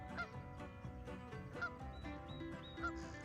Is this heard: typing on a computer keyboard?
no